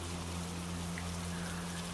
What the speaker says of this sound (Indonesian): hujan sudah turun